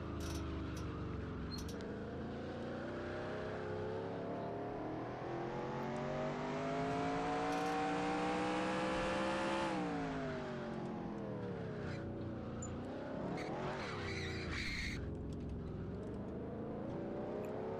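A race car in a racing game of the 2011 NAPA Auto Parts 200 rides over rumble strips, its engine whine climbing steadily, then dropping and surging again, loud and alone.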